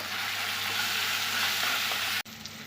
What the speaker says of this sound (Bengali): লবণ হলুদ আর ঝাল লঙ্কার গুঁড়ো দিয়ে ভালো করে মশলাটাকে একটু কষিয়ে নেব